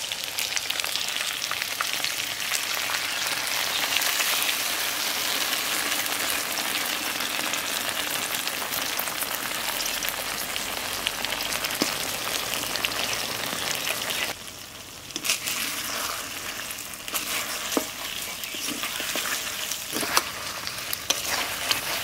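Chicken frying in a pot over a wood fire with ground khoa, melon seeds and cashew paste, a dense continuous sizzle with stirring scrapes, easing slightly midway, no talking.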